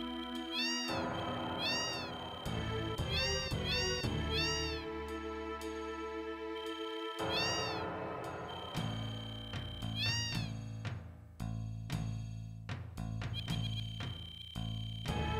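Several cats meow repeatedly in Final Fantasy VII, bright high-pitched game-audio meows in short bursts over steady background music, clear and close with no talking.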